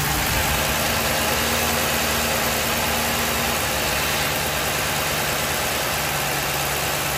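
The 4.6-liter V8 of a 2006 Ford Crown Victoria idles steadily and evenly, a loud, continuous low rumble with constant broadband noise and no revving throughout.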